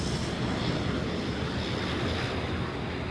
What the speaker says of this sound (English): 787-8 Dreamliner is not far away, touching down at runway 34 left